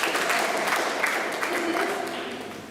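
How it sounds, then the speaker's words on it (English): Steady applause from a small group, clapping for a few seconds with a faint murmur underneath, slowly easing off. "Give him a big round of applause."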